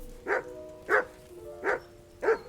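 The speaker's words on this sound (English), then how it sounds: "Call off that damn dog before he wolfs down the last of our mates." A dog barks four times at an even pace in the video game Kingdom Come: Deliverance 2, each bark short and distinct, fairly faint and with no talk around it.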